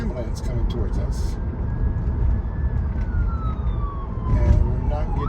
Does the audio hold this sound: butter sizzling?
no